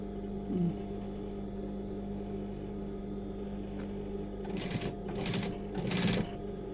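A sewing machine stitches a seam joining pieces of jeans legs; a low motor hum runs throughout, then the needle rattles in a few short, close bursts near the end.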